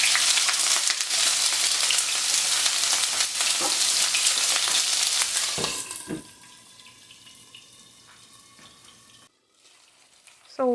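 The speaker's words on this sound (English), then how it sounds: "So what I did was I sweat the onions." Chopped onion and crushed garlic sweat in hot oil in a pan for Jamaican curry chicken, giving a loud, steady sizzle for about six seconds before it drops to a quiet background hiss with a few clinks.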